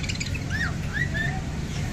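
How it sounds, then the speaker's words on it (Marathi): Birds, parrots among them, chirp and squawk in short rising calls over a background murmur, several calls overlapping at moderate distance. "बघा किती छान छान आहेत पक्षी."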